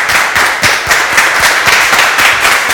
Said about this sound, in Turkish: Bir alkışlayalım Cumhur Bey'le.